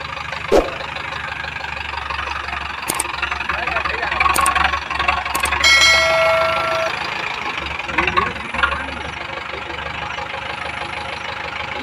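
A Mahindra tractor's diesel engine runs unevenly and misfires because fuel is not reaching the pump properly. It idles close by with a steady rough chug and occasional knocks, while people talk over it.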